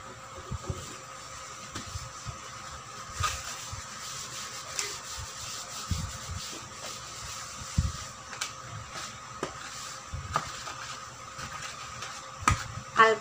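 Tissue soaked with alcohol wipes the surface of a mini portable table, making soft, faint, uneven rubbing and scuffing strokes close by, with small taps scattered throughout.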